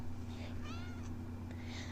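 A pet kitten meows indoors, giving a couple of short, faint cries over a steady low electrical hum. No one is speaking while the cries sound.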